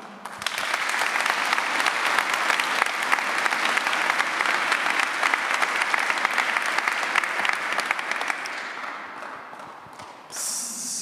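An audience at an Antiquity Slam poetry event bursts into loud, sustained applause, dense clapping that carries evenly for several seconds before tapering off near the end.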